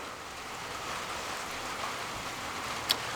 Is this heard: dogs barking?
no